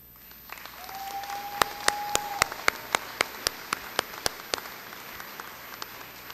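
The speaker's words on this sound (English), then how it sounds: "One more round of applause for these fantastic students." An audience at a college commencement claps in a steady patter, with a few sharp, distinct claps standing out near the microphone. A faint tone runs underneath.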